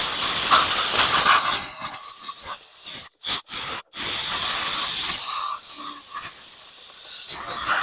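Compressed air blasts onto a corroded aluminum deck of a 2019 Yard Machines 300E lawn mower, a loud, steady hiss broken by a few brief cutoffs and then resuming.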